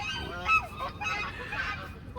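Geese honking on a farm, a few loud nasal honks close by, one right after another, with faint background noise.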